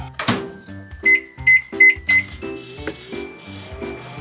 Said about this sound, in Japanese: 中蓋と外蓋を外して、電子レンジで加熱します。